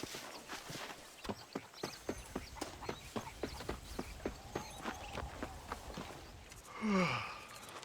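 Horse hooves in Red Dead Redemption, a steady rhythmic clip-clop of a horse walking at an even pace, close and moderately quiet, ending with a short snort or breathy sigh.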